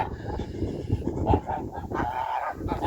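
A rooster that likes the frost and stays outdoors overnight in winter crows on a farm, its call rising over steady rustling farmyard noise at moderate distance.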